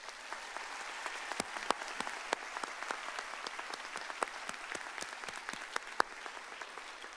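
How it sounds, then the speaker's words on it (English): Steady applause from a commencement audience greeting high school graduates, a dense wash of many hands clapping with sharper individual claps popping out, moderately distant and continuous throughout. "Let's give all of our graduates a huge round of applause."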